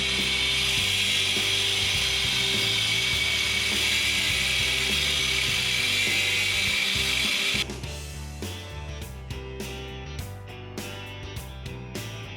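A saw cuts through the steel coil springs of a Firebird, a loud continuous grinding rasp that abruptly drops into quieter, choppy ratcheting scrapes, close up, with no voices.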